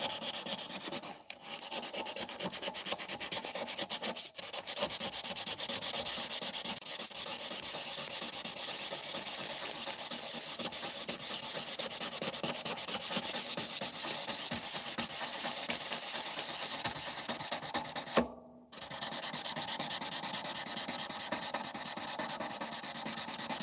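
A knife blade rubbed over 600 grit sandpaper, a continuous close, raspy hiss of steady strokes with one brief pause near the end.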